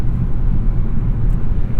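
Steady low road roar and wind rush fill the cabin of a 2021 Hyundai Sonata N Line cruising a highway on an incline, a constant loud rumble with no talking.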